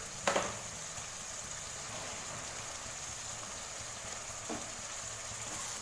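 Onions sautéing with salt in a pan for mutton dum biryani, a steady soft sizzle and crackle with a couple of sharper scraping knocks near the start and later, close and continuous with no talking.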